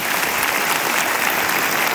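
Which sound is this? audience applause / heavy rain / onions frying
audience applause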